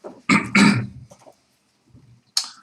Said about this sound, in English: it's winter season and I'm coughing a lot